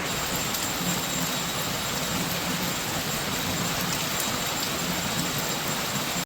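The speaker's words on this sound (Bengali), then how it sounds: "এই বৃষ্টি কখন থামবে কে জানে" Steady rain falling outside, a dense continuous hiss of drops that stays even and fairly loud from start to finish with no talk.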